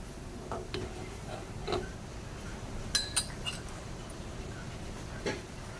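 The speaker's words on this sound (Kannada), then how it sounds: "ಹೀಗೆ ಚಮಚ ಆಡಿಸ್ತಿರ್ಬೇಕು, ಇಲ್ಲಾಂದ್ರೆ ಉಕ್ತೈತೆ ರೀ." A spoon stirs vermicelli milk payasa boiling in a pot, making a few faint, scattered clinks and taps against the vessel over a quiet background hum.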